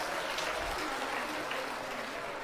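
Audience applause at a live Pandokhar Sarkar religious darbar: a steady, dense wash of clapping from a large crowd that holds at an even level throughout.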